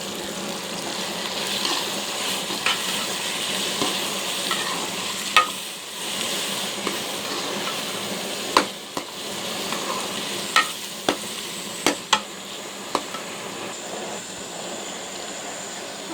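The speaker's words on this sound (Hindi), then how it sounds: "टमाटर हल्के हल्के फ्राई हो गए हैं। अब इसमें दाल डालूँगी।" Tomatoes and lentils sizzle in a hot pan while a spoon stirs them, a constant frying hiss broken by a series of sharp taps and clicks against the pan.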